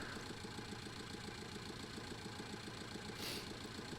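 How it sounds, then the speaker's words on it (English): A tractor engine in the video game Farming Simulator 19 runs steadily with a rhythmic, knocking mid-pitched chug, faint and continuous, with a brief higher hiss near the end. "Loud tractor, isn't it?"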